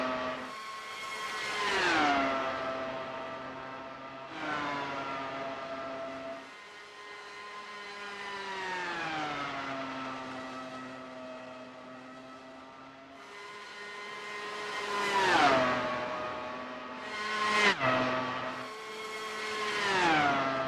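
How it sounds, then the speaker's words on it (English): Dallara open-wheel race cars in the X-Treme Series scream around Dover International Speedway, loud whining engine tones sweeping up and down in pitch as several cars pass close by one after another in steady succession. "cars absolutely flying around the Dover International Speedway"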